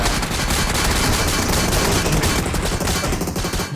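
Rapid, dense gunfire from the BGMI video game, a continuous loud rattle of overlapping shots with no pauses.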